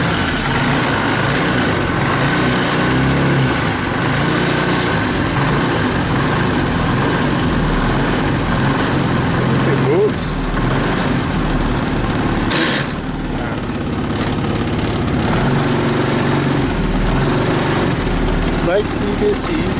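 A cheap, trashed 4x4 side-by-side UTV engine, fed starting fluid, cranks and runs steadily at close range, a continuous loud mechanical drone filling the whole stretch.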